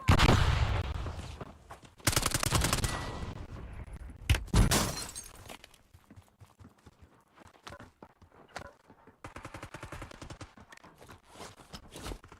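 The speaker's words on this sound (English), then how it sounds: "Throwing flash grenade." A flash grenade is thrown in a multiplayer shooter, with a loud burst and sharp crackling blasts early on, then scattered clattering footsteps and lighter impacts trailing off.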